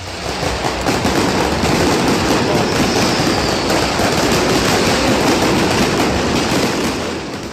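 Dense crackling bursts of fireworks pour out in a continuous loud barrage at the Taunggyi Tazaungdaing fire balloon festival, a rapid, overlapping popping that fills the whole stretch before easing off at the end.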